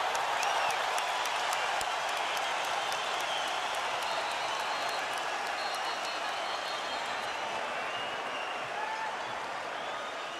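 A boxing arena crowd of about 12,500 applauds a round in a title fight, a broad steady roar of clapping and cheering that fades slightly toward the end.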